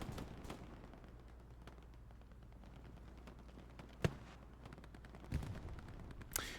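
Scattered gunfire in the Hell Let Loose World War II shooter on the Omaha map, faint distant cracks with a few sharper shots standing out over a quiet rumbling background.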